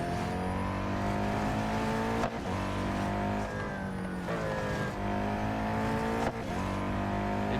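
A Porsche race car in the Real Racing 3 video game screams at high revs, its engine pitch climbing through each gear and dropping sharply at several upshifts, loud and continuous with no talk over it.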